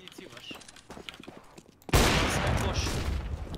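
Loud burst of automatic gunfire erupts suddenly partway through a CS:GO round, following quieter footsteps and clicks, with dense rapid shots continuing to the end.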